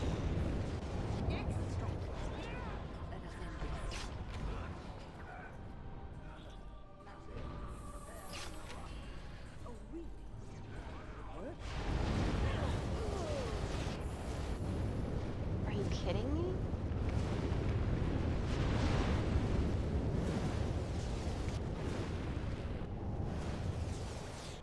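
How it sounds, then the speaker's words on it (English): Steady roaring fire burns in a Dragon Age: Origins battle, a dense, continuous crackling rumble that swells louder partway through, with game combat noises mixed in. "Yeah, lots of fire."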